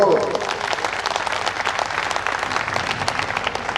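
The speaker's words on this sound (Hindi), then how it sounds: "ताली बजा दो।" Audience applause fills a hall at a Republic Day school function, steady dense clapping from a crowd that stays loud and continuous throughout.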